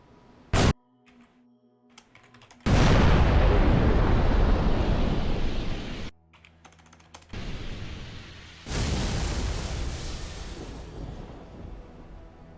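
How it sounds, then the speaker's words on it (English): Explosions in a modded Halo 3 game: a sharp burst, then a big roaring blast that rumbles and fades over several seconds, followed by another loud boom that decays slowly, with quieter clicking between. "That is a significantly more interesting explosion."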